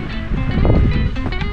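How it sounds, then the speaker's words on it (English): Gusty wind buffets the microphone with a low, rumbling roar, steady and close for a moment, with no voices, on a Connecticut mountain hike. "Windy."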